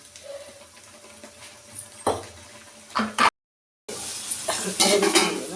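Masala sizzling in oil for a horse gram curry, stirred with a utensil that scrapes and knocks against the pan in several close bursts over a steady frying hiss, with a brief silent break.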